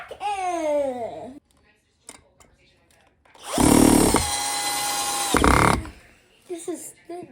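A Black & Decker cordless drill whirs in a loud, close burst of about two seconds after a pause, with a voice chattering before it and brief voices around it.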